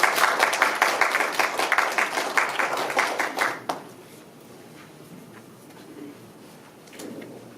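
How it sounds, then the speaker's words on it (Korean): An audience at a municipal ordinance research seminar claps loudly to welcome a university lecturer. The clapping stops abruptly after about four seconds, and a quiet room follows with a faint shuffle near the end. "큰 박수로 맞이해 주시면 감사하겠습니다"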